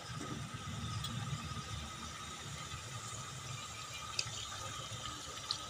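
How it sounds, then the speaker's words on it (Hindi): Water poured into a pan of beetroot and cauliflower sabzi makes a soft, steady splashing rush at low volume, continuous throughout with no talking. "अब इसमें थोड़ा पानी लगाएंगे"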